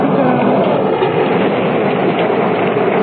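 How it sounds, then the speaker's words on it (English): Low, continuous thunder rumbles through a storm scene in an old radio drama, a dense, steady roar that stays loud and unbroken throughout with no voices over it. "Did you hear that? There's thunder."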